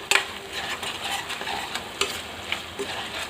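Tomatoes for a Telangana mutton curry cook in a pan, sizzling steadily while a spoon stirs and scrapes with a few distinct knocks, close and moderately loud.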